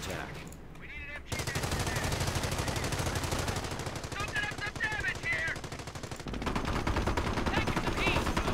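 Rapid machine-gun bursts and gunfire from the World War II strategy game Company of Heroes, with battle sounds continuous across the scene, loud and dense, punctuated by brief high whistling effects and a voice briefly talking underneath.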